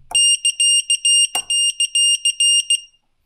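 Rapid, shrill electronic warning beeps from an EMAX Babyhawk R 2-inch micro drone repeat in quick bursts, loud and close, then stop abruptly.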